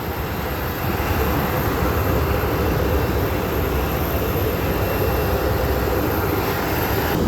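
A steady, loud airplane engine roar holds evenly throughout as passengers board a flight, a broad continuous rumble with no talk over it.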